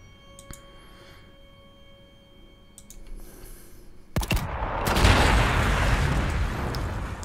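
Cannon fire in Warhammer 40,000 Sanctus Reach: faint clicks and a low rumble, then a loud booming salvo at about four seconds that rolls into a sustained roaring blast wash.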